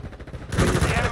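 Rapid gunfire bursts in Call of Duty: Modern Warfare II multiplayer, several sharp shots in quick succession that grow louder and denser in the second half.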